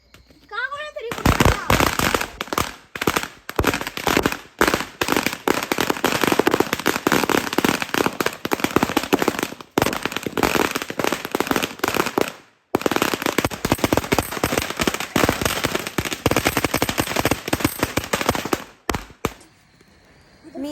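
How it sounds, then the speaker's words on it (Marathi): Dense barrage of Diwali firecrackers bursting in rapid, machine-gun-like crackling strings, loud and close, running almost continuously with only brief pauses, and voices faintly mixed in. "मी दरवर्षी फक्त पाऊस आणि भूचक्र असतात ते, आणि जर आणलेस तर स्काय शॉट, हे 3च फटाके फोडते."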